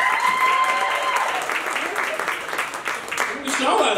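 Married audience members clapping at a stand-up comedy show, a continuous round of applause with crowd noise and a voice talking over it.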